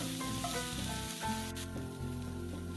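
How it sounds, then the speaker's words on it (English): Chopped onion fries in oil in a hot skillet, giving a steady, close sizzle with faint crackle and a low background hum, no voices. "This is my chopped onion. I'm going to cook this for a few minutes."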